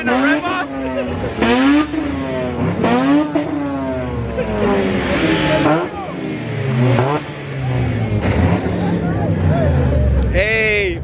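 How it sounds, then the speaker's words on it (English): Car engines revving hard in a rev-off, rising and falling whines repeated in waves, loud and close, with people talking and chatter around them. "Hey, we having a rev off?"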